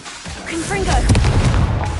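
A Confringo spell blast in Hogwarts Legacy lands as a loud burst amid dense game noise, with a brief whooshing lead-in.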